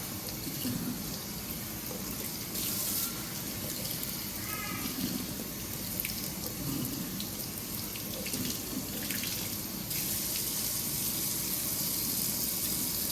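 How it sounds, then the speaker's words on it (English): Water runs steadily from a tap while a K&N engine air filter for a 2018 Silverado 5.3 is rinsed, a continuous close splashing hiss with small shifts as the filter is turned under the stream. "This one, you'll rinse from the inside."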